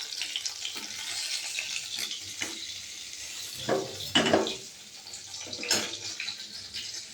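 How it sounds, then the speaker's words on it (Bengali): Prawns frying in hot oil give a steady crackling sizzle, broken by a few louder bursts and spatters as the pieces are moved around the pan. "চিংড়ি মাছগুলো ভেজে তুলে নেব।"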